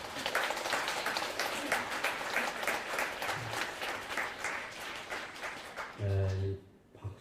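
An assembly at a Buddhist temple dharma service breaks into sustained clapping, dense and fairly loud, before it thins out and a brief low tone sounds near the end.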